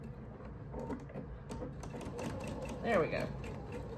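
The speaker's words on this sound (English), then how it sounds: "So I'm gonna reverse stitch here a couple times." A sewing machine reverse stitches through tote bag fabric in quiet, rapid mechanical bursts, heard close beneath a person speaking briefly.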